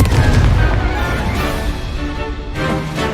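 A Confringo fire spell exploding in the Hogwarts Legacy video game: a loud, rumbling, continuous boom with heavy low end that swells and fades over a few seconds.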